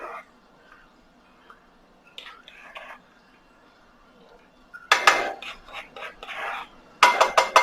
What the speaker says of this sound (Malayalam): നന്നായിട്ട് ഒന്ന് ഇളക്കി ചേർക്കുക